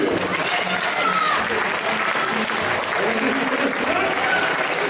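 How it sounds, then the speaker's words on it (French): Continuous audience applause fills a bodybuilding competition hall during posing rounds, steady and dense throughout, with a voice speaking over the clapping. "On applaudit, on applaudit."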